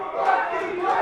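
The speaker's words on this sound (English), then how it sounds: "getting a really warm reception from the crowd here." Wrestling crowd at an 880 Wrestling six-man tag match cheering loudly in a brief swelling roar of many voices.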